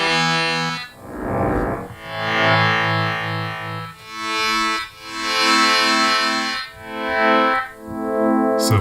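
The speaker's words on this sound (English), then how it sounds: "if you add a modulator on top of the modulator in the previous patch, you get two detuned saw waves" FM synth patch of two detuned saw waves, a bright buzzy tone played as a series of sustained notes and swelling chords, each rising and fading in turn, with no talk.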